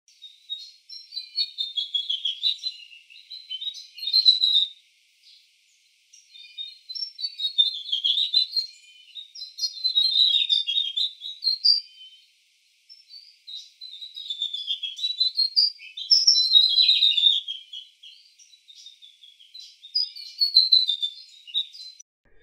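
Several birds chirp and sing in repeated bursts of high, bright phrases, with short gaps between the bursts. The calls come from a quiet outdoor setting with no other noise.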